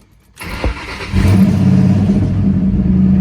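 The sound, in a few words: car engine starting and revving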